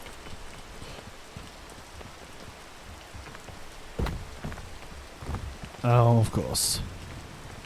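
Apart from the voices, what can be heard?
rain in the video game PEAK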